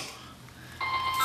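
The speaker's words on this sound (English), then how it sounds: "There goes my phone." A mobile phone chimes with a short electronic notification beep in a kitchen where chicken is being trimmed, starting partway through and holding a bright steady tone over quiet room noise.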